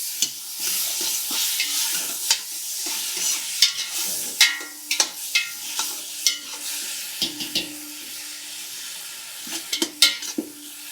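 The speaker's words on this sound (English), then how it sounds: "as that butter comes down and it starts to melt" Butter melting in a pan for tomato soup, a steady bright hiss of sizzling with small crackles and occasional utensil taps and scrapes, close and continuous, no voices.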